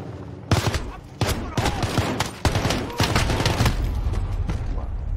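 Gunfire in the video game Modern Warfare 2 comes in several loud bursts and single cracks, followed by sustained rapid shooting with booming low-end impacts.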